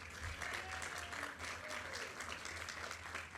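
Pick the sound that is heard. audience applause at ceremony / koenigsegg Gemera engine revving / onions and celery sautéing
audience applause at ceremony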